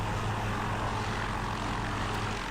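Aircraft engine spooling up for takeoff in a flight simulator game on a winter airfield, a steady loud propeller drone with a low hum, constant and close throughout.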